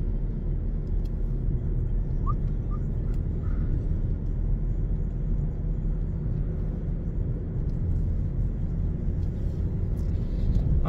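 A car rolls along a road around Roskilde, Denmark, giving a steady, close engine and tyre rumble that holds even and unbroken throughout, with no voices over it.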